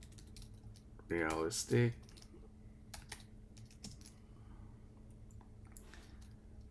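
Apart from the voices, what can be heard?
typing a prompt on a computer keyboard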